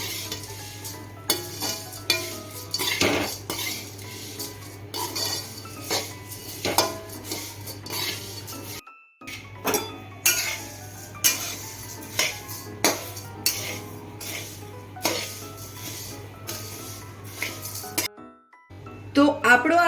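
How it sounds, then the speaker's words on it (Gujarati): Green coriander chevdo being stirred and tossed in a pan, with repeated spoon scrapes and clinks against metal over a faint sizzle, in irregular bursts close by, with a couple of brief silent gaps. "હવે આને આપણે બધું મિક્સ કરી દઈશું"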